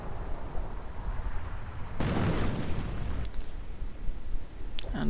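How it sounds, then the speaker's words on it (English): Howitzer shells exploding in a World War II strategy game battle, a heavy burst of detonation crashing in about two seconds in, followed by rumbling aftermath and a second fainter impact amid ongoing battlefield noise. "And Howitzer rounds now flying in as well."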